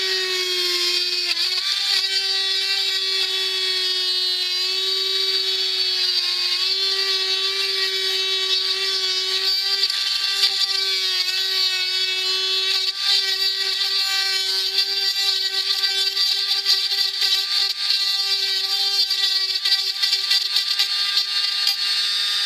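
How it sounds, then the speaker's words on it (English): A Dremel rotary tool set to high speed cuts the plastic shell of a Nerf Scout IX-3 blaster, making a loud, steady high-pitched whine close up whose pitch dips briefly under load, with no talking. "I'm setting my Dremel to a high speed so I get a clean cut, but that may be kind of whining in the video."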